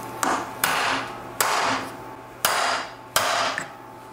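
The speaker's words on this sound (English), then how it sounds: "when we take our socket up here and hit it with a hammer, it is forcing this U-joint upwards" A hammer strikes a socket five times in an uneven rhythm, pressing out a U-joint cap on a Toyota Tacoma drive shaft during carrier bearing replacement. Each metallic blow is loud and close and rings briefly.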